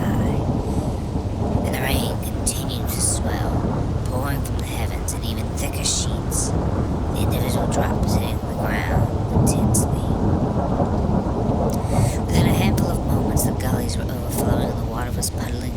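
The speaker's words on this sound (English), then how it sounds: "It was accompanied by a thunderclap that shook the foundations of the earth." Rolling thunder booms through a heavy rainstorm, a steady loud wash of rain with deep rumbling claps throughout, and a voice narrating over it.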